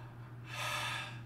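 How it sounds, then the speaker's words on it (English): One deep, drawn-in breath taken during a voice-deepening exercise with hands behind the head, a close, airy inhale swelling to a rush and easing off, over a low steady hum. "Keep breathing deep."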